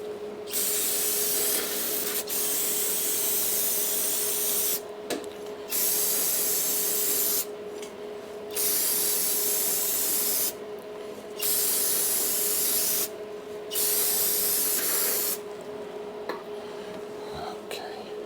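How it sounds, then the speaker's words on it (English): Brake cleaner sprays from an aerosol can onto a 2002 Polaris Sportsman ATV hub in a workshop, five close, loud hissing bursts of one to two seconds each separated by short pauses over a faint steady hum. "now we're just gonna clean this off with our shop grade Windex, aka brake cleaner"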